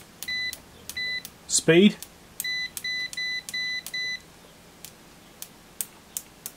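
A Kaiweets ST600Y multimeter in continuity mode gives a series of short, sharp electronic beeps as the probes are tapped, some quick and some a little longer, with a brief spoken word in the middle.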